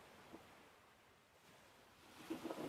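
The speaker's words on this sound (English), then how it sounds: "Lots of waves." Ocean surf rolls softly in the background of a golf video game, a low steady wash that swells louder near the end with a brief brighter crash, no talk over it.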